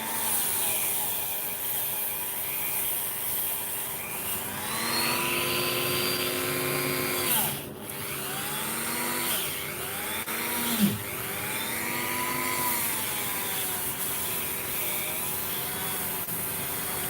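Dremel rotary tool polishing solder joints with wax, a steady high-pitched whine that dips and rises in pitch as the tool is pressed against the work and eased off, close and continuous with no talking.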